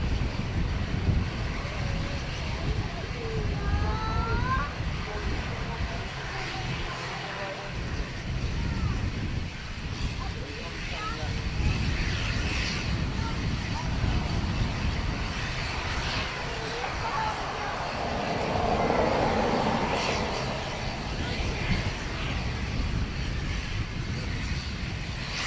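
An ATR turboprop airliner at Dublin Airport drones steadily at a distance, its engine noise blending with gusty wind buffeting the microphone for the whole stretch, with faint voices now and then.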